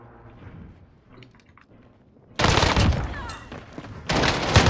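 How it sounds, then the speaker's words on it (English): Shotgun and automatic gunfire in Call of Duty Warzone, loud close bursts that start abruptly after a quieter stretch, break off briefly and resume. "Oh, he's shooting under my guns."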